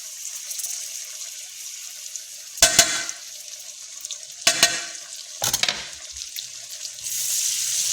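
Onions frying in a pan for a chicken gravy, a soft steady hiss with clattering bursts as they are stirred or added, then a louder sizzle rising near the end, with no talking.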